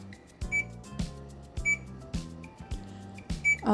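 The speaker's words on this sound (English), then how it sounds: "I'm going to set the timer to 5 minutes." Timer on a rock tumbler being set, a series of sharp electronic beeps and button clicks at an uneven pace, close and fairly loud, with no speech.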